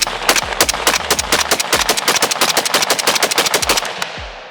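Two Nylaug AUG rifles fire together, dual-wielded with ten rounds in each, a loud, fast stream of sharp close-range shots ringing in rapid succession for several seconds before cutting off.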